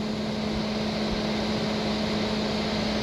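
The electric cooling fan of a 1988 Ford Escort runs with the engine off, giving a steady, even whirring drone with a constant low hum and no change in pitch throughout.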